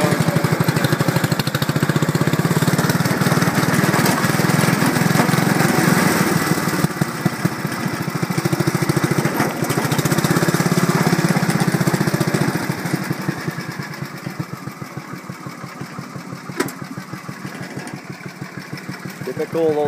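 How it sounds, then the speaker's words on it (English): An old Briggs engine on a 1973 Cushman Minute Miser running while driving, a steady close putter with rattling bumps, dropping in level toward the end. "Typical of those old Briggs engines"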